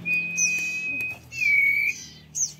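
Clear, high sirpu bird whistles repeat in several phrases, a long steady note followed by sliding warbles and short chirps, close by with light background noise.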